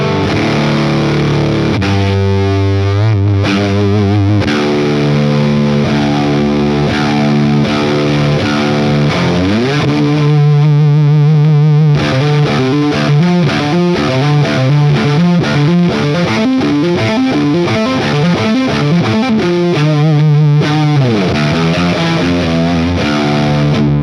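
Electric guitar played through a Beetronics Fatbee overdrive pedal into the overdrive channel of a Matchless amp, loud and heavily distorted, with sustained chords and riffs ringing for over twenty seconds with no talking.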